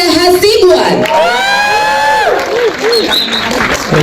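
Audience at a film trailer press conference cheering and applauding for producer Tia Hasibuan: loud crowd clapping and whoops, with a raised voice calling out over the noise.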